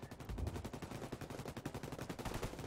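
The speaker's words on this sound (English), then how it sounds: "I do believe that fence protected Barkley from most of that mortar" Rapid gunfire and mortar fire from a PS4 multiplayer shooter match, dense continuous bursts of shots, distant and fairly quiet in the game mix.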